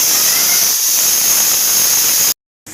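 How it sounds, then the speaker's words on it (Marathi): A kitchen pressure cooker releases steam in a loud, steady, close hiss that runs unbroken, then cuts out briefly and resumes at the end. "कुकर मी लावलेला आहे आणि आता त्याचे आपण 3 शिट्या काढून घेऊ."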